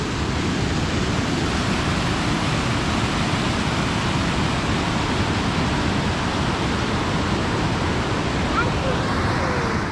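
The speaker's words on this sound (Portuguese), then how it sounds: "É uma cachoeira bacana?" A waterfall near an abandoned mine pours in a constant, dense rushing roar that fills the whole stretch evenly and loudly, with no breaks.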